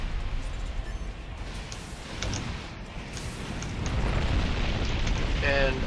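Missiles explode in the game NEXT Regulator as a string of heavy, rumbling booms and rolling blasts. The thunder swells louder toward the end, with a voice faintly present.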